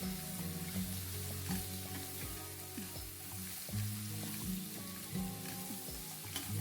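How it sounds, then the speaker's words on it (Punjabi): Dry spices and masala for baingan bharta frying in a pan with steady sizzling, interrupted by repeated scraping strokes of a spoon stirring, close and continuous without any voice. "ਚੰਗੀ ਤਰ੍ਹਾਂ ਆਪਾਂ ਮਿਕਸ ਕਰਕੇ ਇਹਨਾਂ ਨੂੰ ਭੁੰਨ ਲੈਣਾ ਹੈ"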